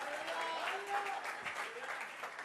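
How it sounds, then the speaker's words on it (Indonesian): An audience at a church sermon bursts into sustained applause, a dense wash of clapping that rises and falls steadily throughout, with a voice speaking over it. "Tepuk tangan yang dahsyat. Lebih dahsyat,"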